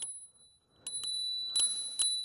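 A small scooter bell on a Gotrax GX2 rings with a few quick, bright dings, close by, with faint rattling between strikes and no talking.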